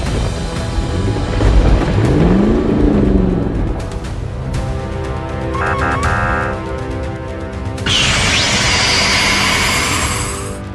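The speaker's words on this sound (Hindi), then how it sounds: "देखते ही देखते दमकल की गाड़ी जेट थ्रस्टर्स की मदद से आसमान की ऊंचाइयों को छूने लगती है" An animated fire truck blasting skyward on jet thrusters: a loud, continuous roaring rumble with a rising whoosh, mechanical tones in the middle and a bright hissing jet blast near the end.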